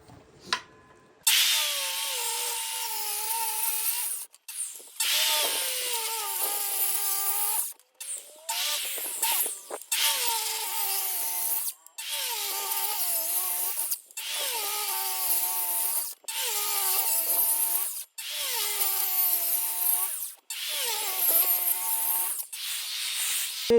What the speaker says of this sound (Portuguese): Vou vir com a broca Forstner fazendo um rebaixo aqui para adiantar no serviço.